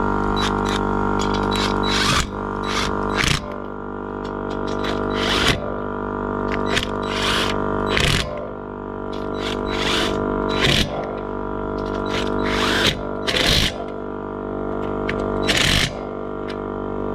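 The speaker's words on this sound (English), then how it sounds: "I'm gonna just tighten it down with my gun" Impact gun tightening wheel lug nuts on a car tire during a flat repair, with a steady whirring air compressor hum under repeated short rattling bursts of the gun at irregular intervals.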